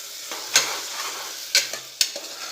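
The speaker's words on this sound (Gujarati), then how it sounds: "આ રીતે થોડીવાર તેલમાં સંતળાશે શાક" Chopped brinjal and potato sauté in oil for a papdi nu shak, a low steady sizzle broken by three sharp stirring scrapes of a spoon against the pan.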